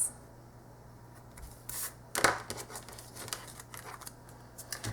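Scissors snip through excess paper while a paper coupon box and tags are being made. A few crisp close cuts come with paper rustling and crinkling, and one sharper snip stands out in the middle.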